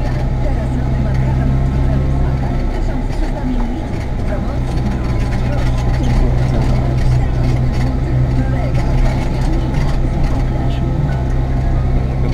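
Steady loud drone of a Fendt 820 tractor heard from inside the cab while driving over bumpy field ground toward another field during silage work, a constant engine rumble running the whole time with someone talking over it.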